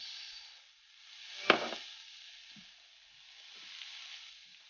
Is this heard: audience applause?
no